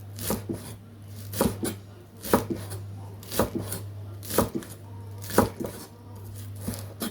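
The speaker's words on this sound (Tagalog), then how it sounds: "nahugasan ko na yung ating spring onion. So, hiwain muna natin." A knife chops spring onion on a board in regular bursts of sharp, close taps, roughly one cluster per second, over a low steady hum.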